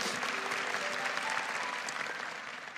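Steady applause from a church audience, a dense wash of clapping that holds for a few seconds and eases slightly toward the end.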